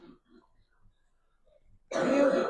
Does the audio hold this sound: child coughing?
yes